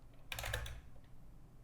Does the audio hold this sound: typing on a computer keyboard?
yes